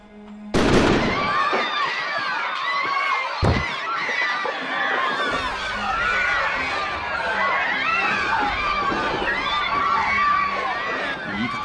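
Two sharp gunshot bangs in the video game Code: Realize ring out a few seconds apart, followed by a dense, continuous wash of crowd-like noise.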